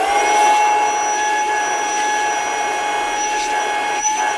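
A vacuum cleaner runs steadily as it cleans debris out of an iRobot Roomba 675 robot vacuum, a loud, even motor whine with no pauses and a slight dip near the end.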